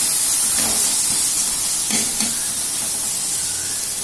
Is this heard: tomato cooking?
yes